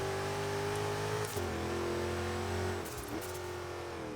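A Jeep in Forza Horizon 3 drifting on rally suspension holds a steady, droning engine rev, dipping and shifting pitch twice as the throttle changes, loud and continuous with no talk.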